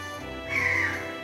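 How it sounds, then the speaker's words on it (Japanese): A single crow caws once on an early-morning street in Bruges, a short, harsh call that sounds fairly near over a quiet background hum. "おるのはカラスぐらいですかね。"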